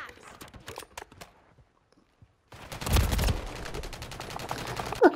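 Gunfire in Modern Warfare 3, with bursts of rapid automatic shots, a quiet gap, then a dense loud volley and scattered shots, mixed with player talk.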